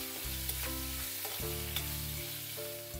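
Cumin, asafoetida, curry leaves and green chilli sautéing in hot oil for a bhindi stir fry, a continuous close frying hiss with faint stirring, no voices.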